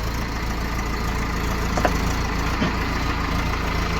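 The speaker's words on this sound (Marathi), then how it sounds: "बघा बघा ऊसाच्या ट्रॅक्टर" Tractors hauling sugarcane rumble past on a road, with a continuous broadband engine roar at a steady level and a few faint mechanical clanks.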